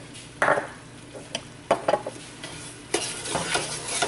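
Metal utensil scraping browned bits off the bottom of a sizzling pan, with a few sharp scrapes over a steady hiss of frying.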